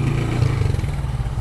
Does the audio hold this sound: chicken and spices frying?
no